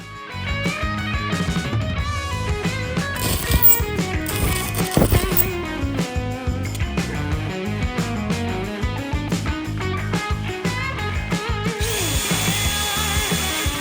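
A power tool grinds down a weld repair in the bore of a 300 hp turbo race engine, a continuous close whine with rhythmic pulsing and scraping bursts, with no talk.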